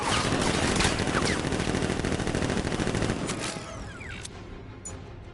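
Guards open up with sustained automatic gunfire in Batman: Arkham Knight, a loud, dense rattle of rapid shots that runs for several seconds before thinning out, with a few scattered impacts near the end.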